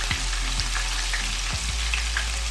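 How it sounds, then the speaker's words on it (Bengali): Chopped onions frying in oil previously used for frying fish, a steady, close sizzle with a few soft scraping stirs, no voices. "আমি এখন এর মধ্যে দেড় কাপ পরিমাণে পেঁয়াজ কুচি দিয়ে দিচ্ছি এই একই তেলের মধ্যে আমি রান্নাটা করব"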